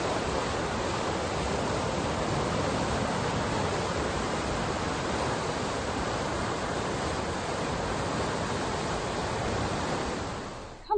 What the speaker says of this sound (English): The water is really gushing now.